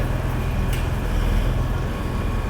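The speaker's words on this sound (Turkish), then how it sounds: "İzmir Uşak treni geldi yani" Low, steady rumble of the İzmir–Uşak passenger train rolling into İzmir's Basmane station, with continuous mechanical droning and a brief higher hiss partway through.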